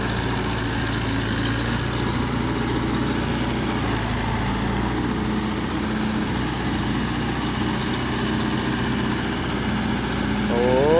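A Yovo Tech Plus 585 4WD tractor engine runs in mud with a loud, steady low drone and rumble, close and continuous, rising slightly in pitch near the end.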